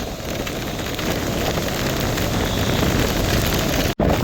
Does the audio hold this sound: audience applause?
no